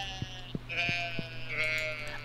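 Sheep in the video game Stardew Valley bleat twice in wavering cries, set over a steady musical hum with four evenly spaced soft thumps.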